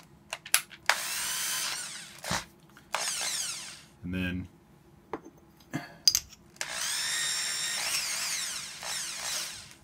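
A power drill whirs in a few bursts, starting and stopping, spinning lightsaber parts chucked into it, with brief speech in between and clattering handling noises.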